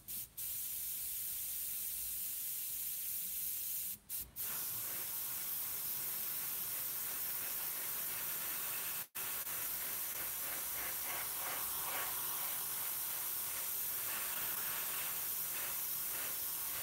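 An airbrush sprays paint on a scale model in one nearly unbroken close hiss that pauses only briefly a few times, steady and even, with no voices.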